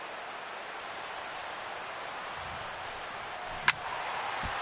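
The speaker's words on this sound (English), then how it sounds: "EK, how'd you like playing in the rain?" Rain falls during a baseball game as a steady soft hiss, fairly faint and even throughout, with one sharp brief knock near the end.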